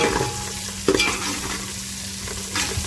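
Egg masala pasta being stirred in a big pot with a spoon, a close scraping stir over a light sizzle with a sharper clack near the start and another stroke toward the end, no voices.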